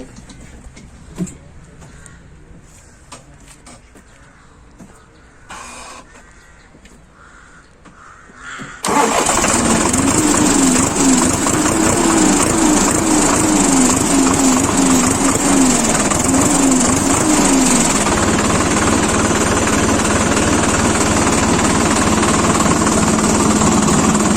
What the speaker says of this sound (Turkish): Şimdi traktörün her şeyini anlattık de sesini duyalım.